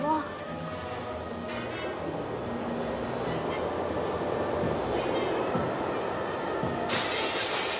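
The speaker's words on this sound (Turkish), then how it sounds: "Cam taşlamalar devam ediyormuş." Window glass smashes from a thrown stone in a city street, one sharp crash near the end after a stretch of people talking over busy background noise.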